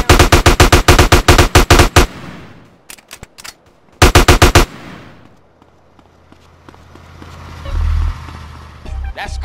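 Rapid bursts of gunfire from GTA San Andreas, loud and close, come in two volleys of quick repeated shots separated by a few scattered single cracks, followed by low rumbling game ambience.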